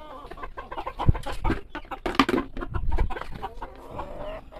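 Backyard frizzle chickens, a gray hen and a red rooster, cluck in a busy overlapping run of close, moderately loud calls while being fed.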